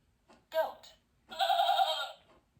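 A recorded goat bleat plays from a children's farm sound book, one wavering nasal cry lasting under a second, preceded by a short spoken word.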